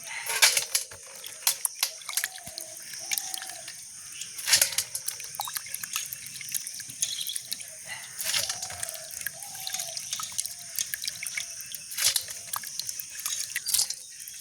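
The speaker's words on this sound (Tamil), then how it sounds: "நாங்கள் உளுந்தெல்லாம் நல்லபடியா கழுவி துப்புரவாக்கி" Urad dal (black gram) being washed and cleaned in water in a village kitchen, with repeated sloshing, splashing and dripping strokes at a steady irregular rhythm, close and fairly loud, no talking.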